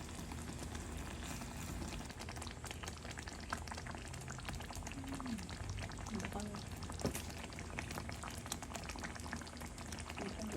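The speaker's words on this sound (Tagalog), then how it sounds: "Ginisa ko yan sa bawang, sibuyas, luya at kamatis." Shrimp paste sautés with garlic, onion, ginger and tomato in hot oil, a steady close bubbling sizzle running throughout with occasional faint stirring clicks.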